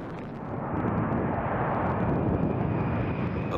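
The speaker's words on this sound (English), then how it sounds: "the plane takes off toward its destination" A large cargo plane roars on takeoff, a dense broadband engine rumble building over the first second and then holding steady and loud, with no voices.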